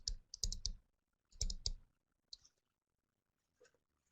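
Keystrokes on a computer keyboard, two quick bursts of several clicks each, then a couple of isolated taps, close and fairly quiet with pauses between.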